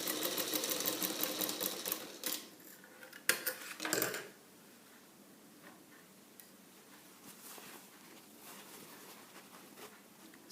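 A sewing machine stitching fabric, its rapid mechanical ticking steady and fairly close for a few seconds before stopping, leaving only faint room noise.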